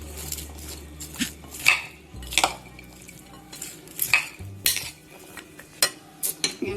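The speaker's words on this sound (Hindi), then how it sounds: "टमाटर, हरी मिर्चें, प्याज, सारी चीज़ों को पहले मिक्स कर लेना है।" Tomatoes, green chillies and onions for papri chana chaat being stirred together in a bowl, with intermittent clinks and scrapes of a spoon against the dish, close and fairly quiet, no talking.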